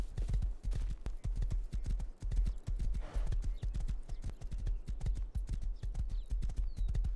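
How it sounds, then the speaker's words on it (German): Steady clip-clop of galloping horse hooves in the game Rust, fast and rhythmic, close and loud, with a brief whinny in the middle. "Ist das da hinten dein Pferd?"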